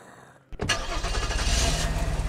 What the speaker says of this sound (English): So I'm gonna grab the ambulance real quick.